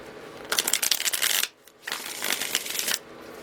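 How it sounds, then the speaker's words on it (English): Tarot cards being shuffled by hand in two bursts of rapid riffling, each about a second long, separated by a brief pause, close and crisp. "One more shuffle."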